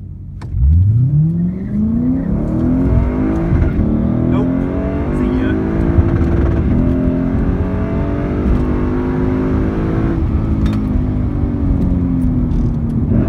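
A Lexus IS F launches hard at a drag strip race, its engine revving up loud and close, then holding a steady high roar through the pull with only brief shift dips.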